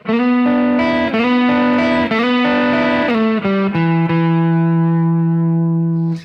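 A distorted electric guitar plays a slow blues lick alone, bending and sliding between sustained notes before ringing out on a final held note.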